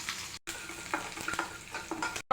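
Chopped onions sizzle and hiss in a pan as they fry for a samosa filling, with a steady close frying sound broken by a few stirring scrapes and no voice.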